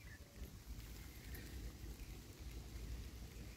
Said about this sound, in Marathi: एवढा पाऊस येतोय